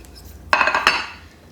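Macaroni salad with shredded onion is mixed in a bowl, giving a short burst of scraping and clinking utensil-on-bowl sounds that fades after about a second, with no talking.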